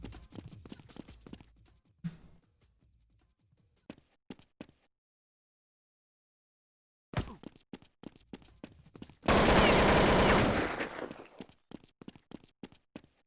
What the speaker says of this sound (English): When I hear music, I'll just fire my gun a bunch of times to try and cover it up.